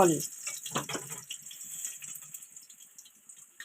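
Tap water splashing onto a hand at a kitchen stove during cooking, a bright spattering gush that trails into softer trickles and faint sizzling, with a voice talking over it.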